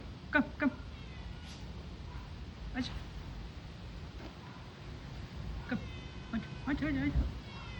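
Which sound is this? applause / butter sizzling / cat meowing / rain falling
cat meowing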